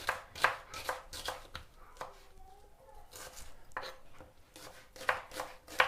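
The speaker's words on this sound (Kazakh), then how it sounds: "алдымен пиязды турап аламыз" Onions being chopped on a board with a knife, heard close as quick bursts of rapid, crisp strokes separated by short pauses.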